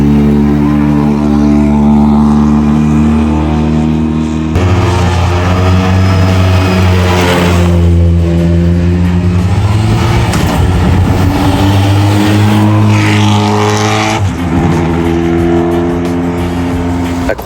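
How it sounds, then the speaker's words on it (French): Rally cars drive past near Puerto de la Cruz on Tenerife with loud, close engine roar, rising and falling revs and a distinct pass-by, continuing unbroken for several seconds. "Quelques voitures de rallye."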